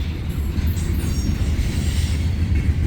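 A Norfolk Southern freight train rolls past on the northbound track, with a steady heavy rumble of wheels and cars, faint squeals of wheels on rail, loud and close, with no voices.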